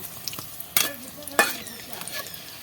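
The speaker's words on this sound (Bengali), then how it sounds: "এই যে দেখুন আমি এইভাবে এপিট ওপিট করে এগুলো ভেজে নেব" Chops made from bottle gourd peel fry in hot oil with a soft steady sizzle, broken by two loud crackling bursts as pieces are turned over with a utensil.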